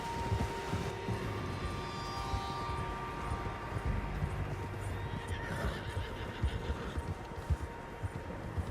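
Horses neigh and whinny over a steady bed of hoofbeats and rumbling movement, several animals close by, with the noise continuous throughout.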